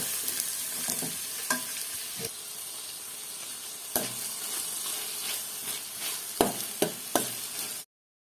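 Mustard seeds popping and frying in hot oil for a Tulu-style fish curry, a steady bright sizzle with scattered sharp crackles and pops, close and fairly loud, with no talking.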